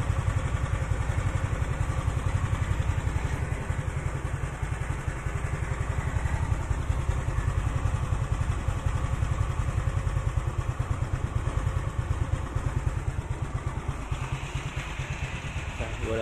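Honda Beat motorcycle with a custom camshaft and carburettor idling close up, a steady rapid low-pitched putter with faint mechanical clatter running evenly throughout.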